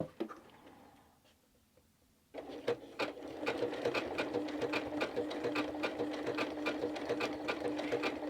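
A sewing machine stitches fabric for a flower appliqué block, starting after a quiet pause and running steadily and close at a brisk even rate with rapid repeating needle ticks.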